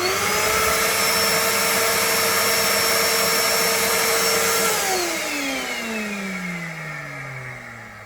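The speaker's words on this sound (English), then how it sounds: "if I turn on the vacuum cleaner, which I'm using for extraction" A vacuum cleaner used to extract coolant from a leaking MGB water pump whines steadily at close range, its pitch dropping as the motor winds down toward the end.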